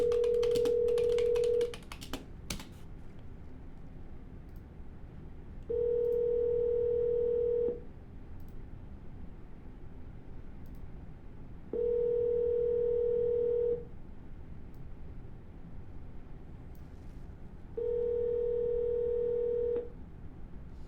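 Telephone ringback tone on an outgoing call to a sprinkler service business: four steady, moderately loud electronic rings, each about two seconds long and separated by roughly four-second silences, with no talking.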